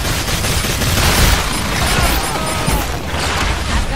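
A barrage of bombs bursts against minions in the video game Evolve, dense overlapping booms and crackling impacts rolling on loudly for several seconds without a break.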